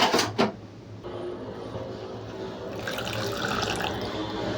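Soaking water being poured off drumstick (moringa) leaves for a lentil dal, a close, steady splashing stream with a brief louder gush at the start and trickling after.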